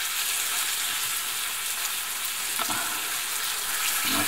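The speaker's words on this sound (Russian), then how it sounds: "обжариваем, вот так вот, хорошо перемешали" Onions and carrots sizzle and crackle steadily in a hot pan, with occasional scraping from stirring, loud and close, no talking.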